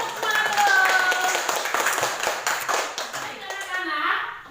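Children clap in class in a quick, patterned spirit clap, a burst of fairly loud hand claps with young voices chattering and calling over them, tapering off toward the end.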